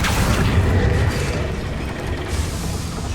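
A Confringo spell blast fired during combat in the video game Hogwarts Legacy, a loud booming burst with dense low rumble that lingers and settles across about three seconds.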